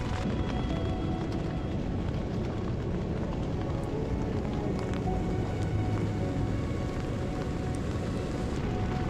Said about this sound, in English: So, as you can probably hear, we just hit a storm.